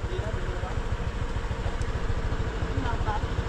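A motorcycle engine idles with a steady low, pulsing throb, close and continuous, in a storm-damaged area after a typhoon; faint voices murmur in the background.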